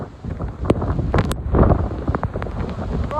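Strong hurricane wind at about 153 miles an hour roars over a roof, with continuous loud buffeting gusts and rattling impacts, and no clear speech.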